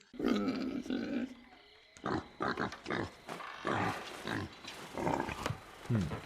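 A pig grunts and snorts repeatedly in short, irregular bursts, close and moderately loud, with some rustling in between.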